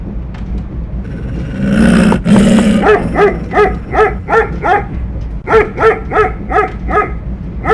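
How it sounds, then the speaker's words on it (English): A dog barks in the 1997 PC adventure game The Last Express, a run of evenly spaced, loud, close barks in two bursts after a brief growl and rustle, with no talk over it. "Do we get to pet the doggy?"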